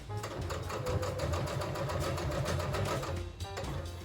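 A sewing machine stitches a ribbon skirt near its elastic waistband, a close steady rapid clatter that briefly pauses before resuming.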